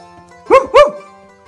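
A person imitates a dog, giving two quick, loud bark-like yelps close by as a sit command for a toy poodle, with quiet before and after.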